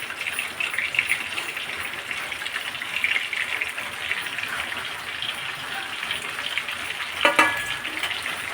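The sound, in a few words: stuffed capsicums frying in hot oil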